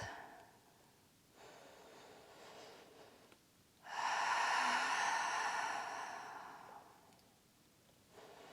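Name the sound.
deep breathing during yoga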